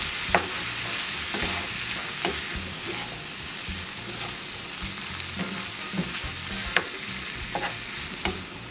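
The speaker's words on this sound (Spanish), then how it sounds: "Ahora vamos a sofreír." Shrimp for tacos sautéing in a pan with shrimp broth and Worcestershire sauce, giving a continuous soft sizzle with regular light taps and scrapes of a stirring spoon throughout.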